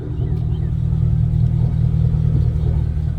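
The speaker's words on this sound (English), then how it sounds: "Sounds like a V8 Jeep" Jeep with an LS V8 swap and redone exhaust with new cats, rumbling and revving close by in a deep steady bark that swells slightly, no talking.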